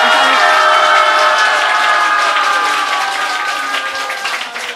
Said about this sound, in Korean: 뜨거운 감사의 박수 올려주십시오.